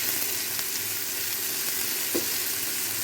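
Chopped tomatoes fry in a pan for Chettinad chicken fry, giving a steady, close, dense sizzle with faint crackles and no talking.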